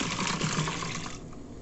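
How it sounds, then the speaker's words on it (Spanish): Cooled water is poured off soaked uchuva fruit, a steady splashing pour that runs for over a second and then thins out, with no voices. "Ahora ya le vamos a retirar esta agua."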